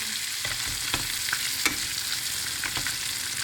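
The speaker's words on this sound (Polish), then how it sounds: "Ekipa jeszcze skwierczy na tym, na patelni" Food sizzles and crackles steadily in a hot frying pan, with occasional louder pops and scraping stirs, close by and without talk.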